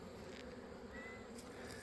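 Honey bees buzz steadily around a hive in an apiary yard, the colony showing mite damage and deformed wings; a dense, continuous drone holds at an even, moderate level close by with no talk over it.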